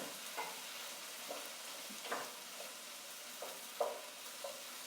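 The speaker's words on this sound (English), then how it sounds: "we're going to throw in the mushrooms and the tomato paste, and we're going to give that a good stir" Mushrooms and tomato paste stirred in a hot pan during a cooking class, with a soft, steady sizzle and quiet scraping strokes of the spoon every half second or so, faint and close with no talking.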